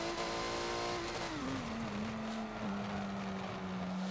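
A race car engine in the Forza racing game drones steadily, its pitch dropping through a gear change on the Indy GP classic track, heard alone without talk.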